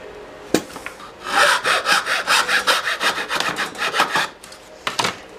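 A hand saw cuts through wood for a cigar box guitar, with steady rasping back-and-forth strokes. A sharp knock comes before the strokes and a few light taps follow them, all close and fairly loud.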